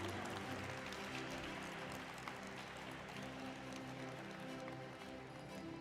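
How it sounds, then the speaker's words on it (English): A crowd applauds at a stock exchange listing ceremony for Billionbrains Garage Ventures Limited. The clapping is dense, steady and continuous throughout, filling the room evenly without any breaks. "Can the claps be louder, please?"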